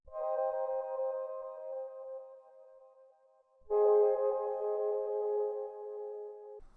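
A melodic sample pitch-shifted down with an H910 harmonizer plugin to 0.8, two sustained, tonal held notes, the second entering louder after a short gap, played alone for an R&B beat.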